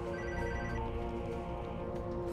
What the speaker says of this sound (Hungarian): Bocs, most Joshua nem tud a telefonhoz jönni